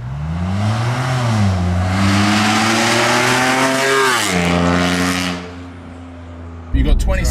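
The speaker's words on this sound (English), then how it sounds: "In summary, a great daily driver that now Paul has augmented it. Sounds great, looks cool, and has the performance" BMW M3 engine revving and pulling hard through the gears, strong rising and falling engine tones, loud and close, easing off near the end before a brief clatter; speech may be mixed in.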